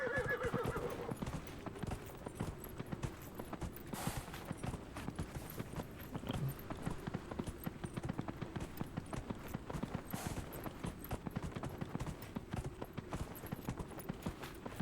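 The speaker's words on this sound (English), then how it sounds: "We're in the desert on a horse with no name." A horse in a desert video game gallops with steady, rapid hoofbeats, neighing clearly near the start and recurring; the rhythmic clip-clop stays loud and continuous throughout.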